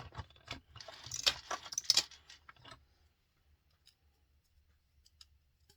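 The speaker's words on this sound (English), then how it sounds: "And now I'm going to take my high temp tape right here." High-temperature tape being handled while wrapping a sublimation tumbler: a close, brief flurry of light clicks, ticks and tape rustles, then near silence with a few faint taps.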